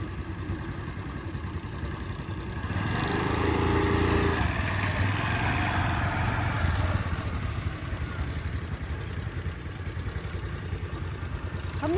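A scooter ridden very slowly by a beginner, its small engine giving a steady, continuous hum that swells somewhat louder midway through before settling back to an even drone.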